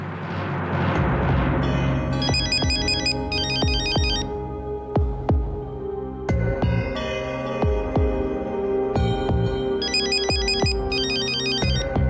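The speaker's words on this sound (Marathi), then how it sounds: "फोन वाजता तुझा" A mobile phone ringtone plays loudly, a repeating electronic melody with bright chiming tones, continuing without pause.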